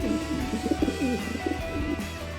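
A pigeon coos in a low, repeated warbling rhythm, close and steady, over a faint background hum.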